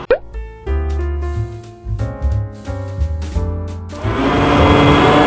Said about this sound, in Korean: 붕대 한번 올려보도록 하겠습니다